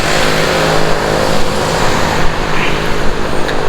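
Steady roar of traffic on a city street in Pattaya, cars passing continuously close by without any horns, loud and unbroken, with no talking.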